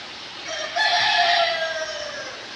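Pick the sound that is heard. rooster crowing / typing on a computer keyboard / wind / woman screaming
rooster crowing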